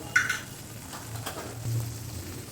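A spoon stirring chal potol, a Bengali rice and pointed gourd curry, in a pan: soft scraping strokes over a low, steady sizzle, close and fairly quiet, with no talk.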